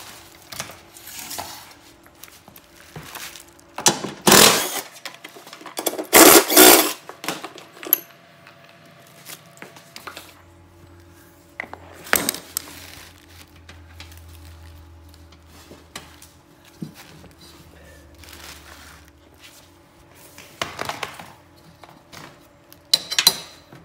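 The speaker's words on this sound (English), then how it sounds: "Okay, I'm going to grease the spindles." A grease gun pumps grease into the spindles of a 42-inch John Deere lawn tractor mower deck. Sharp metallic clicks and clanks come in a loud cluster early on, then sparser, quieter clicks follow over a faint low hum.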